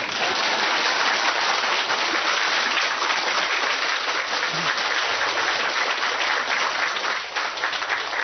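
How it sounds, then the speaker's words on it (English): An audience applauds at a spiritual talk, with dense, steady clapping that fills the whole stretch without pause. "Now, applause."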